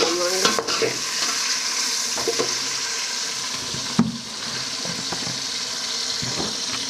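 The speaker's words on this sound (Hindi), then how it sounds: "प्याज इतने से ब्राउन कर लेंगे, इस तरीके फिर मसाला पा लेंगे" Onions for beef karahi fry steadily in a pan, a continuous close sizzle broken by repeated scraping stirs, with one sharper knock partway through.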